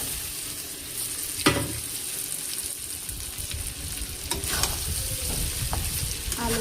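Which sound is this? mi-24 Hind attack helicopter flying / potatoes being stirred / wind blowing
potatoes being stirred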